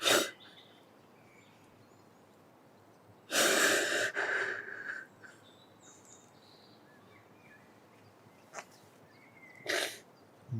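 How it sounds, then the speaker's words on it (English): During a therapeutic coaching session, a man takes a few deep, audible breaths, each a loud close rush of air separated by long quiet pauses. "Just keep breathing."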